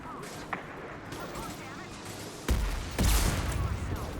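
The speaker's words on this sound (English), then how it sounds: "How did I dodge a rocket there?" Rockets and gunfire in the video game Mass Effect Legendary Edition: a steady din of combat with a sharp shot near the start and two heavy, booming blasts toward the end, with a voice talking over it.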